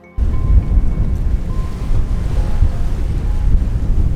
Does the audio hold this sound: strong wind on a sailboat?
yes